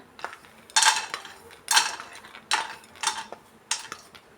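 Cashews go into a pan of hot ghee, followed by a series of sharp metallic scrapes and clinks of a spoon against the pan, about five distinct bursts in an even rhythm, close and clear.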